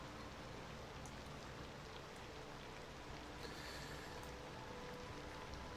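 Soft, steady rain hisses at night in the city-building game Cities: Skylines 2, a faint, continuous wash of falling drops with no voices and no distinct peaks.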